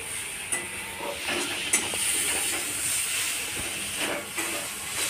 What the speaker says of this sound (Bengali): তাই আমরা ভেজে নিয়ে অল্প জল দিয়ে দিচ্ছি